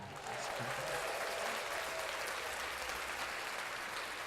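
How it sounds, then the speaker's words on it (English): Clapping from a small group in a podcast studio, a brisk steady patter of hands starting just after the opening and holding evenly to the end, fairly soft and slightly distant. "So let's clap that up."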